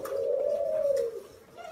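A pair of Thai spotted doves coo nearby, one loud, smooth, drawn-out call that swells and fades, with a softer coo starting at the end.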